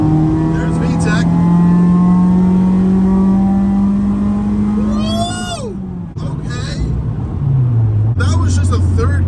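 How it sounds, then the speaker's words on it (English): A JDM Honda EP3 Civic with a K24A engine pulls hard in third gear, its loud, close engine note climbing steadily before a brief drop at the shift and a renewed roar, with voices inside the car. "Just a 3rd gear pull,"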